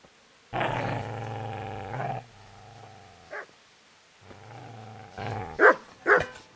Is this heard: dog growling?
yes